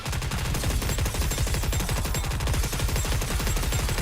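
Rapid automatic gunfire from the video game NIKKE, a dense continuous burst of loud, closely spaced shots with no pauses.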